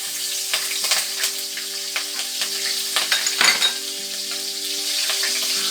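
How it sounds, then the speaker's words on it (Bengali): Green chilies frying in hot oil in a home kitchen, a steady close sizzle and crackle with bursts of spattering pops, alone without talk. "এই তেলেতে প্রথমে আমি একটু সবার আগে কাঁচা লঙ্কা দিলাম।"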